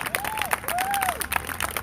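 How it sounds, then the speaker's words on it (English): Applause and crowd noise at a Breonna Taylor vigil in Portland, with scattered claps and cheers mixed with a sweeping tone, moderately loud throughout. "Get another round of applause for Black Butterfly, y'all."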